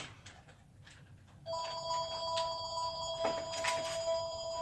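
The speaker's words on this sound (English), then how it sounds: "I'm trying to turn the motherfucking phone off because it's loud as fuck." A home telephone rings loudly and steadily with a bright electronic tone, starting after a quieter stretch of room noise and continuing to the end, with no talking.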